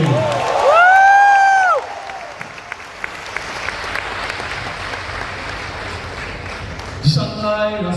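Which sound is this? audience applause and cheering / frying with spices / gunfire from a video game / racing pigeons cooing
audience applause and cheering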